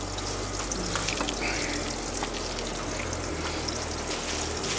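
Whiting fish fries in a frying pan with a dense, steady sizzle and crackle of hot oil, close and continuous, with no talk.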